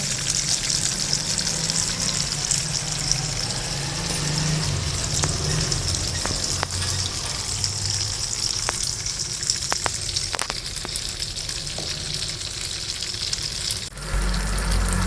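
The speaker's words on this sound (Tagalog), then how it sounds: "Tapos, ilalagay ko na yung sibuyas at bawang." Tofu frying in hot oil with onion and garlic, a steady loud sizzle with occasional crackles and stirring clatter throughout, with a brief clunk near the end.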